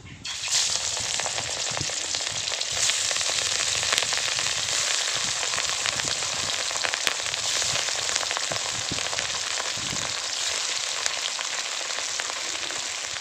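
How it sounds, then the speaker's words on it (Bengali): Loud, continuous sizzling of catla fish frying in hot mustard oil, a steady crackling hiss with occasional sharper pops, close by and without speech. "তেল গরম হয়ে গেছে, এবার মাছগুলো ভেজে নেব।"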